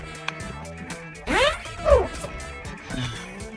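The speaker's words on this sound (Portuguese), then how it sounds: "puxei aqui o zíper de uma vez só e ele não falhou de maneira nenhuma de ficar engasgando" The double zipper on a Joyfox 2PX-Cross tent is pulled in one quick, smooth run, a short, close, rasping zip that rises and falls over about a second.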